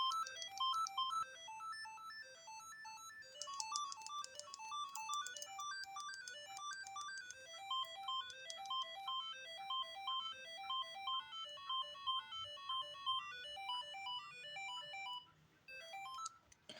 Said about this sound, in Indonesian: Ini kalau nggak salah ringtone klasik kok emang.